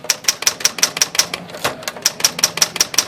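Rapid mechanical clicking from the platen ratchet of an Underwood Model S typewriter, a steady run of sharp, close ticks with a brief pause in the middle before the clicking resumes.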